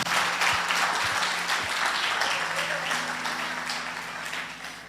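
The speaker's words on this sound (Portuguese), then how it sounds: "Aplauda o Senhor." Church congregation applauding during a worship service, a broad steady wash of clapping that starts full and slowly tapers, with faint low tones beneath.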